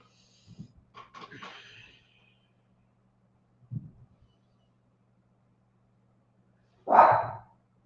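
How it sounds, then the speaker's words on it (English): A dog gives a few short barks and yips in the background of an indoor room, a couple soft and distant, then one louder bark near the end, separated by quiet gaps. "so there's a little like cat and dog battle going on, so you might hear Raylan in the background"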